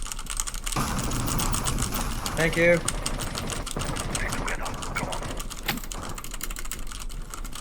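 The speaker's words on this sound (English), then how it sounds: "keyboard clicks so you guys can hear the difference" Computer keyboard typing picked up by a Blue Snowball ICE USB microphone, a dense run of quick close clicks continuing throughout, with a brief spoken word and some talk mixed in.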